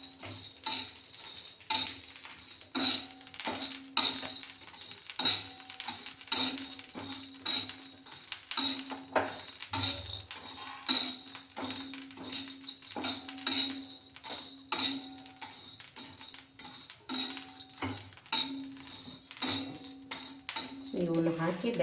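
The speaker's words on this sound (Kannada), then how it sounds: "ಇಲ್ಲಿ ಚಕ್ಕರೆ ಮಗ್ಗು ಹಾಕಿ ಸ್ವಲ್ಪ ಹುರ್ಕೋತೇನೆ, ಸ್ವಲ್ಪ ಬೆಚ್ಚ ಮಾಡ್ಕೋತೇನೆ ಅಷ್ಟೆ" Whole spices, cinnamon and cloves with bay leaf, dry-roasted in a pan before grinding for chicken kebab masala: steady scraping and metallic clinks of a spoon stirring against the pan, with a faint sizzle throughout and a voice now and then.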